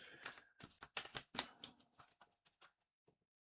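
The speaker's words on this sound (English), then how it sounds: "I still need to shuffle them again" A deck of tarot cards is shuffled by hand, giving a quick series of crisp riffling and tapping clicks that grow sparser and fade out, close and quiet with no talk.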